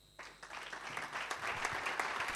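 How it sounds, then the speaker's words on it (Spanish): Gala audience at a Castilla y León television programming event applauding the co-host, the clapping starting suddenly and building into steady, moderately loud applause. "Un fuerte aplauso para mi partener esta noche"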